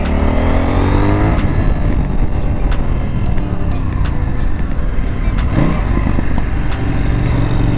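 A CFmoto 800NK motorcycle accelerating, a loud, close engine roar with rising pitch sweeps as it climbs through the gears, amid wind rush.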